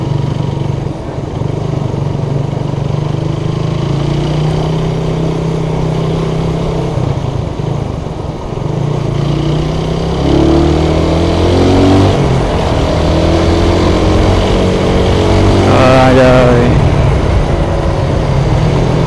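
Slow car and motorbike traffic crawling along a busy street during Lebaran, a continuous close rumble of idling and revving engines with passing vehicles, loud and steady for the whole stretch.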